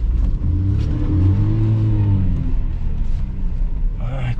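Car engine revs loud and close in strained, rising-and-falling bursts as the vehicle works to get unstuck, a rumbling low drone dominating with a brief voice near the end.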